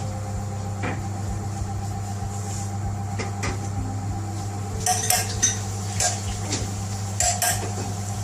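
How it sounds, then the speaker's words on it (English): Metal lid set onto a pot of pilau rice on a kitchen cooker, giving a couple of soft clanks and rattles over a steady background hum, with a few brief clinks of cookware close by. "We're going to put the lid on the top and we leave it to cook for about 10 to 15 minutes."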